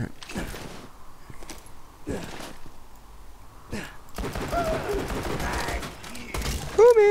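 Video game gunfire in Borderlands 2: short separated bursts of shots at first, then a dense sustained barrage of rapid fire with clattering effects.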